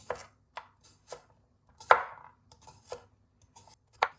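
A knife chops cucumber on a board in a kitchen, eight sharp separate strikes spaced irregularly, close and fairly quiet, with no voices.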